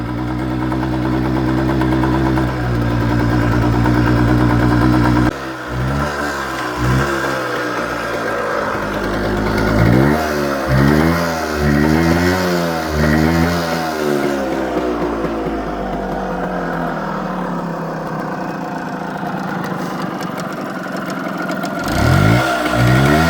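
An old Suzuki TF185 motorcycle engine under carburetor repair runs loudly up close, revving up and down in repeated surges before settling toward idle and picking up again.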